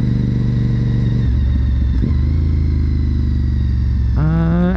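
A motorcycle engine drones loud and steady while riding on a fall road, dipping and then climbing through a downshift with a rising rev near the end.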